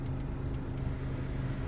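A 2016 Honda Civic EX-L's climate control fan runs inside the car, giving a steady broadband blowing hum with a low rumble, alone and without talk.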